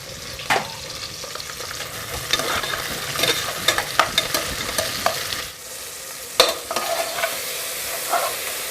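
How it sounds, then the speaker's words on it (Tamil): Tomatoes are sautéed with onion and garlic in a pan for bisi bele bath, giving a continuous close sizzle with repeated scraping stirs and occasional louder clanks of the spoon. "வெங்காயம் பூண்டு வதங்கிடுச்சு. இப்போ தக்காளி போடலாம்."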